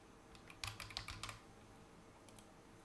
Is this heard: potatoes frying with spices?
no